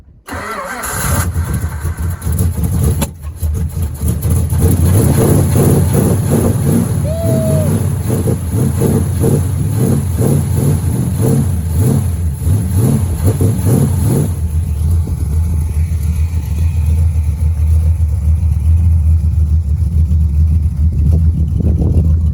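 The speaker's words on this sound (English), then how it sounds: "when you're firing up a car that's been sitting for a long time" A classic car that has sat unused for a long time cranks over and catches, then settles into a loud, close idle, with a few rough revs in the first seconds and some talk over the engine.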